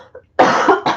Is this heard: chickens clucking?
no